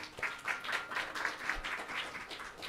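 Steady applause from an audience at an academic event, dense clapping sustained throughout at moderate volume.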